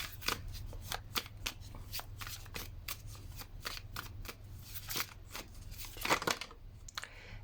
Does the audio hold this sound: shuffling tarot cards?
yes